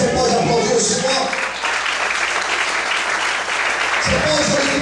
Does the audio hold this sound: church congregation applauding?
yes